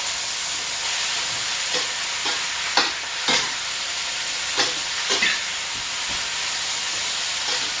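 Vegetables for a vegan pot pie sauté in a pan with a loud, continuous hiss and sizzle, broken by occasional scrapes of a stirring utensil.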